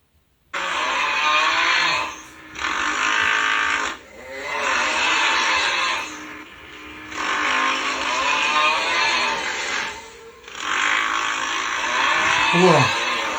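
A woman fakes loud snoring beside her sleeping husband, her voice imitating the sound as harsh, rasping roars in about six long bursts separated by brief pauses, close and forceful, almost like a revving engine.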